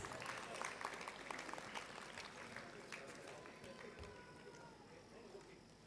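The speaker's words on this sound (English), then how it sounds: "Can we welcome him with a huge round of applause" A crowd at a graduation convocation ceremony claps steadily with dense, scattered applause that gradually thins toward the end, while a voice speaks underneath.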